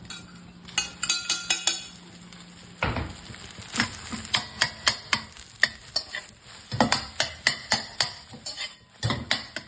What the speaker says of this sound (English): Add in your rice.